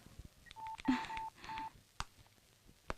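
A telephone number being dialed: a quick run of keypad tones, some held briefly, close and clear, followed by a few soft clicks and then quiet.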